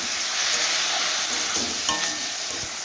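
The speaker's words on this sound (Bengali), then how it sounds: "আর দু তিন মিনিটের মতো আমি নাড়াচাড়া করে তখন নামিয়ে নিই" Okra and potato curry frying in a pan, a loud continuous sizzle with occasional faint stirring scrapes, close up and uninterrupted by voices.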